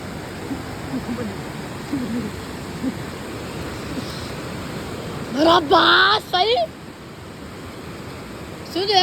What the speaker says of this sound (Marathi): हा जो धबधबा याचं वैशिष्ट्य असं आहे की दोन डोंगरावर तुम्ही पाणी पूर्णपणे एकत्र होऊन ते गावामध्ये जातं